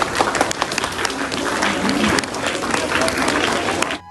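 Applause from a school audience welcoming children onto the stage at a Gita Jayanti programme, busy crowd clapping throughout that cuts off abruptly at the end.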